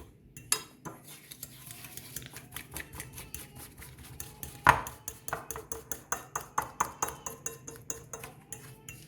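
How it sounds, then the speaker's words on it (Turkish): A fork whisks dalgona coffee mixture in a bowl, clinking against the sides in quick, regular metallic taps that speed into a steady rhythm, close and fairly quiet. "Şöyle bir çatal yardımı ile rengi açılana kadar köpük köpük olana kadar karıştırıyoruz arkadaşlar."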